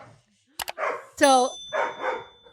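Virgil, a puppy, lets out a loud sharp bark followed by a yelping, whining cry, close by, with a person talking just before and after.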